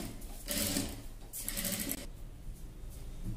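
A sewing machine stitches the front part of a blouse in two fast bursts of rapid mechanical clatter separated by brief pauses, close and clear, with a third burst starting at the end.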